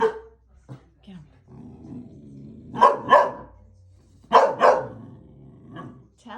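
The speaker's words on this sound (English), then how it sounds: "That is a big dog." A big dog barks in two sharp double bursts, close and loud, with low growling and whimpering between the barks in an indoor room.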